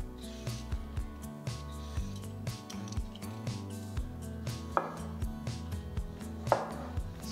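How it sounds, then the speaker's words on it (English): A large peeled cucumber chopped on a cutting board with a knife, steady rhythmic knocks repeating about every half second, close and clear, with two sharper wet snaps standing out and no talking. "Next, I'm going to chop 1 large cucumber."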